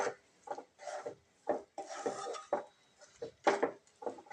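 Grated coconut is stirred into melted jaggery in a pan for sweet coconut rice, giving a rhythmic series of soft scraping and rubbing strokes, close and faint, with short pauses between them.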